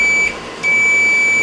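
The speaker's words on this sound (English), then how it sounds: "Put it on this symbol. It's continuity. And if it beeps, that means it's good." A multimeter set to continuity mode gives a steady electronic beep, with a brief dropout partway through, clear and close during a dryer heating element repair.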